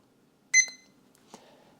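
A timer gives one quick, bright electronic beep in a quiet indoor room, followed by a faint click.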